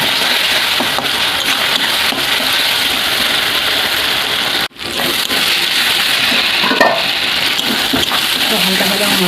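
Spice masala and tomato for a chicken dish sauté in a pan with a constant close sizzling hiss, broken by one brief dropout midway, while someone speaks quietly.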